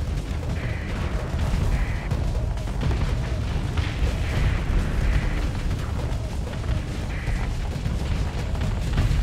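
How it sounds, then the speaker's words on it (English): Torpedoes explode in a Starsector space battle, producing a dense, continuous barrage of deep booms and rumbling blasts with scattered bright pops over it, no speech. "Oh, nice torpedoes."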